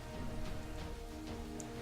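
Steady rain falls in Kingdoms and Castles, a soft continuous patter with faint droplet ticks and a low game drone beneath, moderate and unbroken throughout.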